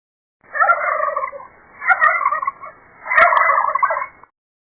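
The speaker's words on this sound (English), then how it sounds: "Turkey." A farm turkey gobbles in three long, warbling bursts with brief gaps between them, loud and close, with no voices.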